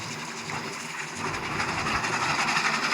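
A train rumbles past close by, a continuous metallic roar and hiss with rhythmic rattling growing slightly louder.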